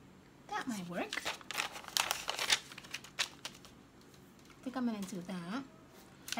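Vellum paper crinkles in bursts as it is handled for a junk journal, crisp rustling mostly in the middle, between stretches of someone talking.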